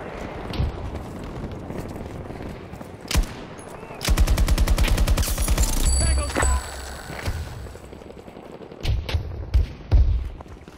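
Gunfire in Battlefield 2042, with scattered single shots and then a long, loud run of rapid automatic fire mixed with thumps and explosions, with busy battle noise throughout.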